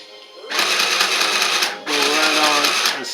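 A sewing machine runs in two close, steady whirring bursts with a short pause between them while stitching a homemade N95 style fabric mask.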